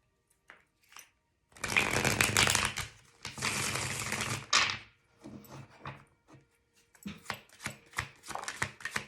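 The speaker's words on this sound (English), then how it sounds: "even as I was shuffling my deck" A deck of tarot cards being shuffled close up, several bursts of riffling and soft papery slaps separated by short pauses and scattered taps, no talking.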